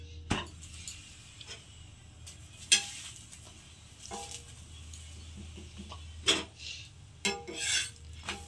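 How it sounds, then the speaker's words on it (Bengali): Spinach paratha frying in a pan, a low steady sizzle running throughout with scattered sharp clinks and scrapes of a utensil against the pan, close up with no voices. "আর এখানে যে আবার আর একটা ভেজে নিচ্ছি"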